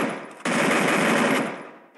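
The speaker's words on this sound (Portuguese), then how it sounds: "Ele me atirou pulando" A dense burst of rapid video game gunfire rattles continuously for about a second, loud and close, then fades quickly.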